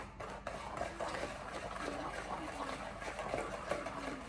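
Cookie dough for chocolate chip cookies is mixed in a bowl, a continuous close scraping and stirring with soft clicks of the utensil against the bowl.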